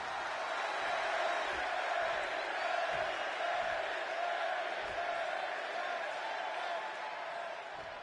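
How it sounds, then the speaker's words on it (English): Arena crowd in Chicago roaring continuously in the WWE 2K26 wrestling game as CM Punk faces Eddie Guerrero, a loud, steady wash of cheering and shouting that holds throughout with only slight fading at the end. "just listen to this crowd here in Chicago"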